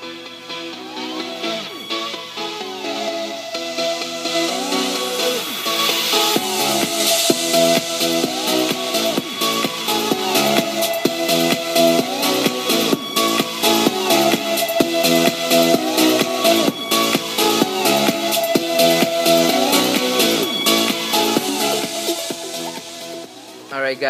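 Music played through a JBL Flip portable Bluetooth speaker, a full, steady mix with beats and melody running continuously and fairly loud, no talking over it.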